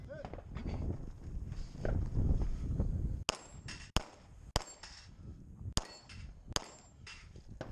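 Rounds from a MAC DS-9 pistol with a 507 comp red dot striking hanging steel plates at distance, giving five sharp separate clangs in the second half after a stretch of muffled rumbling noise.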